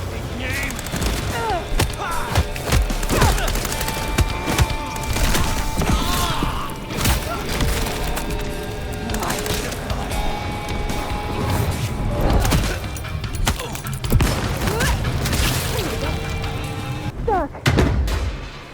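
Dense gunfire from a Vampire the Masquerade: Bloodlines 2 firefight, with bursts of shots, crashes and thuds packed tightly together at a loud, steady level for the whole stretch, and shouting voices mixed in.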